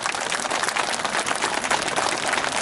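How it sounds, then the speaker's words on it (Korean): An outdoor crowd applauds at a civic tree-planting ceremony in Gumi, dense, sustained clapping filling the whole moment with no voices rising above it. "우리 존경하는 시민 여러분 큰 격려의 박수 한번 부탁드리겠습니다"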